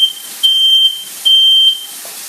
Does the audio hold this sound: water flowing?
no